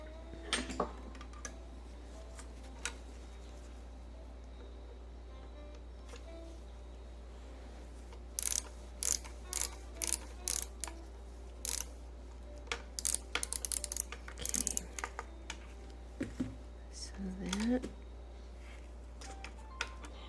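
Small metal clicks and taps while a screw is worked out of an antique sewing machine, faint at first, then a cluster of sharp close metallic ticks and rattles over a low steady hum.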